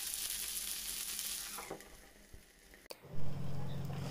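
Okra (bhindi) fries in a pan for a crispy sabji, giving a steady close sizzle that dips briefly mid-way, then swells louder near the end as the pan is disturbed.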